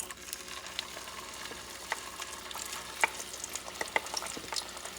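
Plantain slices frying in preheated oil on a stovetop over medium heat, a soft steady sizzle with scattered small pops and crackles, fairly quiet and heard alone.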